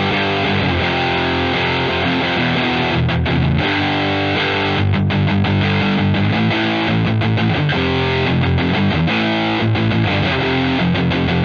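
A Harley Benton MR Classic electric guitar, played on its single-coil P90 bridge pickup through a Rat distortion pedal, gives a loud, continuous, heavily distorted tone with ringing sustained notes throughout, with no talking.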